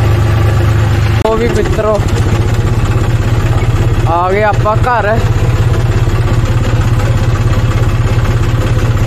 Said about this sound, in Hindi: पर ट्रैक्टर मैं ड्राइव कर रहा